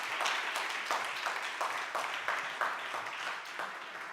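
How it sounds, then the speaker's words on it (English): An audience at an accessibility conference gives a round of applause, a steady wash of clapping with a few sharper individual claps standing out at irregular moments. "Please do give them a big round of applause."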